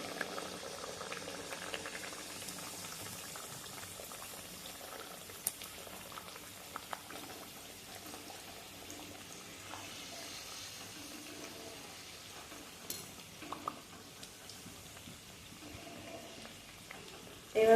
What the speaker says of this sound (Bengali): এবারে আস্তে আস্তে আমি একটা করে পুরি ভেজে নেব।